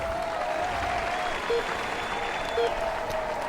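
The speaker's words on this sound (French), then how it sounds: "Allez, on l'applaudit bien fort" Simulated roadside crowd applauds a rider on the start ramp in the Tour de France 2015 video game, a continuous wash of clapping and cheering with faint tonal game sounds layered over it.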